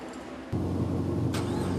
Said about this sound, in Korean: 시동 걸어보자